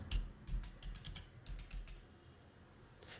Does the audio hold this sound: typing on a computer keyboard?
yes